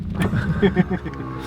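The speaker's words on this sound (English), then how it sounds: "when the electric window makes more noise than the engine" An electric car's power window motor whirs briefly inside the cabin, a short close mechanical hum lasting about a second with faint background noise.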